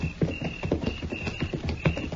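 Several horses in an Old West radio drama clip-clop along in a quick, uneven run of close hoofbeats, with a faint jingling tone above them.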